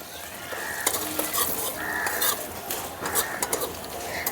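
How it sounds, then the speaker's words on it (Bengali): Sugar melting in hot oil in a pan while stirred, a continuous sizzle with repeated spoon scrapes and light metal clinks, moderately close. "চিনিটা এখন একটু গলিয়ে নেব।"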